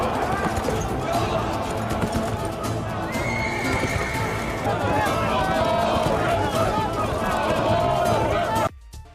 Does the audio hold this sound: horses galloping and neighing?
yes